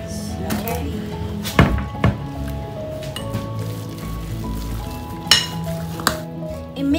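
A spoon stirs and scrapes through thick cheese sauce for a cheesy fish pie in a pot, making soft squelches and occasional clinks against the pan, with someone talking throughout.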